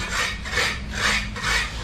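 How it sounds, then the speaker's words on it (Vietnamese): Steel trowel scraping and spreading mortar over a mold while casting a cement planter base, giving three rhythmic rasping strokes, close and fairly loud, with no talking. "sẽ sử dụng bay và búa cao su ta gạt ra và ta sẽ gõ xuống"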